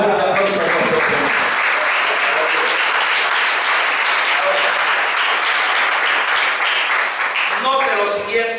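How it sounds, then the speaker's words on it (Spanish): A church congregation breaks into loud, continuous applause that stays dense and even for the whole stretch, with voices and shouts mixed into the clapping. "Denle un fuerte aplauso a nuestro Señor."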